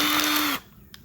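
A power drill bores into an iPhone, a loud steady high whine for about half a second that stops abruptly, followed by a few faint clicks and handling sounds.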